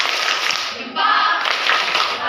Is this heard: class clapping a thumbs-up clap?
yes